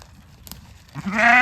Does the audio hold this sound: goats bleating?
yes